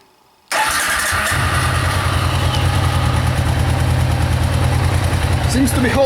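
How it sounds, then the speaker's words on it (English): A Suzuki VX800 motorcycle engine fires up after a brief silence and settles into a steady, loud idle around 1100 rpm, a close, even mid-pitched thrum that holds without revving. "Seems to be holding the idle pretty well at about 1100."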